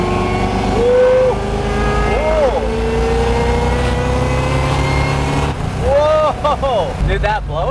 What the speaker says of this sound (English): Dude, that blower sounds good.